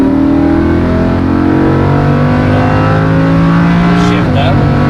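A sports car on the race track at The Rack Track, such as a Porsche 991 GT3, Ferrari 488 GTB or Acura NSX, accelerating out of a turn: a loud, steady engine drone close by that rises in pitch, with a voice talking over it.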